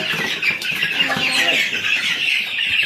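Chickens clucking on a small Bangladeshi poultry farm with about seventy birds, hens and chicks, a busy overlapping flock chatter that runs steadily through the clip with a few louder calls, close and fairly loud, with no talk.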